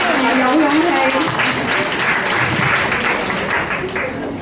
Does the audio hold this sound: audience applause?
yes